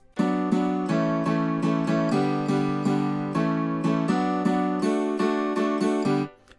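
A guitar set as the lead instrument, mixed with piano, plays a steady run of about fifteen bright, loud plucked chords in even rhythm, then stops abruptly near the end. No voices are heard.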